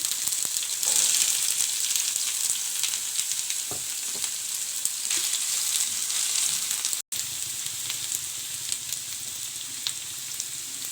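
Onions sizzling loudly in hot oil with curry leaves and ginger-garlic paste for potato samosa filling, a dense continuous frying hiss with occasional stirring knocks and a brief dropout near the end.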